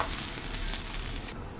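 Garlic sizzles in a pan for fried rice, a close, steady crackling fry with bright spattering throughout that dulls slightly just before the end.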